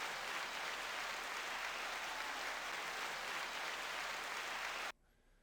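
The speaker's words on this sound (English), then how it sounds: "9-second applause." Steady applause from an audience fills the room at an even, dense level for about five seconds, then cuts off abruptly into near quiet.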